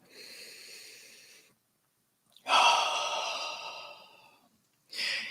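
Slow, deep breaths drawn close to the microphone: a long airy exhale, a pause, then a fuller, stronger breath, and the start of another, with quiet between them.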